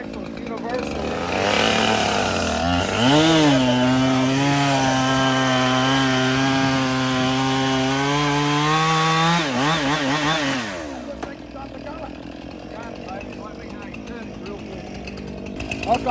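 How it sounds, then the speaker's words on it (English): A homemade saw gun driven by a chainsaw engine roars loud and steady while cutting through wood at a lumberjack show, its pitch rising and holding for several seconds before dropping off, with crowd noise around it. "Let's cut this off flat."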